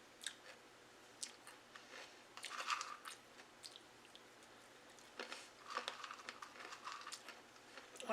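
Crunchy oriental snack mix with nuts being chewed close up, a series of sharp, dry crunching bites in irregular bursts, with quiet gaps between them.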